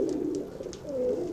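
Pigeons cooing close by, a soft low throaty coo rolling and rising in two short phrases over faint background rustle, no voices.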